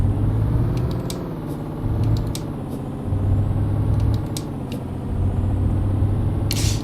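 Heavy truck in Euro Truck Simulator 2 braking with repeated air brake hiss bursts over a steady low engine rumble, a sharp hiss at the end.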